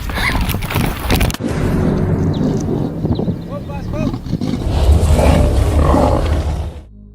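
A lion roars loudly and close during a hunting outing with horses and dogs, under heavy wind noise and excited, shouting voices.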